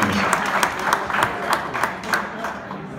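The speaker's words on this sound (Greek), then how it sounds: "Ένα χειροκρότημα για τον Κίμωνα." An audience claps at an awards ceremony for a regional interclub sports round. The applause is loud and continuous, with sharp individual claps standing out through the three seconds.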